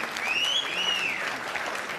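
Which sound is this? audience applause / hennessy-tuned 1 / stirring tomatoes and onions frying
audience applause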